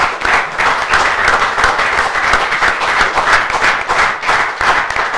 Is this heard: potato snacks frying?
no